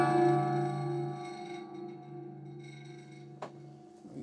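A muted piano cluster chord played with the soft pedal sustains and fades with a soft, wavering shimmer, followed by a brief click near the end.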